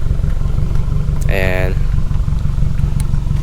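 A 2019 Subaru WRX fitted with a Remark Stealth Edition axleback exhaust runs with a steady, low exhaust drone and a brief rising rev partway through, heard under a man's speech.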